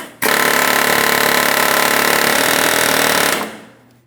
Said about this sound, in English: We're going to attempt to rock this bearing out of position.